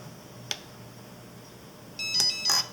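A sharp click, then a pair of short electronic warning beeps from a radio-control transmitter with its switches not all up, close by, high-pitched and bright, in an otherwise quiet room.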